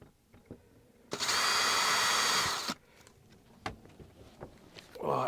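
A power drill drives small screws into the edge of a table: one steady high whirring burst of about a second and a half, close up, with a few light clicks and handling knocks around it.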